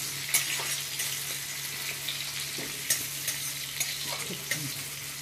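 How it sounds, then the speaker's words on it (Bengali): Chopped onion fries in hot oil with toasted nigella seeds in a pan, a steady close sizzle broken by occasional stirring scrapes and light clinks. "পেঁয়াজটা একটু ভাজা ভাজা করে নিই।"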